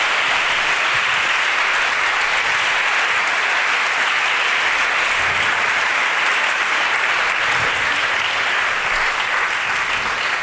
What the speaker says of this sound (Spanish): Yo les pido un aplauso para estas 3 mentes brillantes.